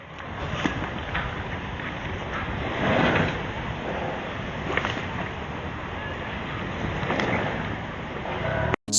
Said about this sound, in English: Strong waves created sea foam that covered the entire coastline.